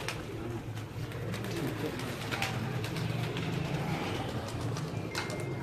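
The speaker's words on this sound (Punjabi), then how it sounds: "ਉਸਤਾਦ ਮੋਇਨ ਸਾਹਿਬ ਦੇ ਜਿਹੜੇ ਬਰੀਡਰ ਕਬੂਤਰ ਪਏ ਦੇ ਨੇ" Breeder pigeons coo softly in a loft, their low murmuring carrying over faint background noise.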